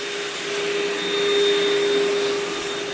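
A vacuum cleaner runs steadily and loudly up close while picking up pet hair from a tile floor, with a constant whine and no breaks.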